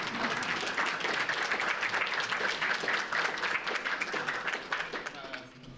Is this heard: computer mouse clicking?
no